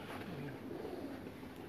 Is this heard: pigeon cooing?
yes